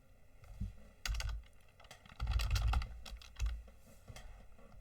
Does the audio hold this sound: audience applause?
no